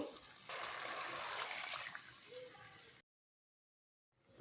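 Liquid is poured into a pot of thin hilsa fish curry with potato and eggplant, a loud gushing splash for about three seconds, then a sudden silence before a faint return.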